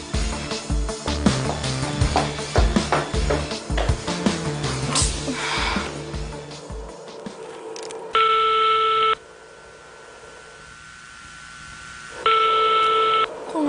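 A telephone is dialed with a quick run of tones, then steady ringback or busy tones come in two long bursts with a gap between them, and nobody picks up.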